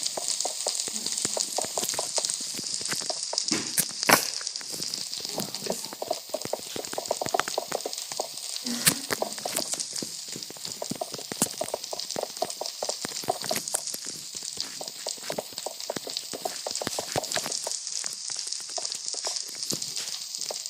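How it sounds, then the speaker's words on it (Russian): A large outdoor campfire burns steadily near trees and leaves, with dense crackling and popping over a continuous roar of flames, sharp snaps scattered throughout, close and fairly loud with no talking. "у меня мой весь костер почти сгорел"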